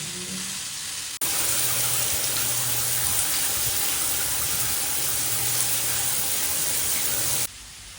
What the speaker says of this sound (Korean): 근데 물소리만 나가지고 깜짝 놀랐는데 여기 스프링크가 있어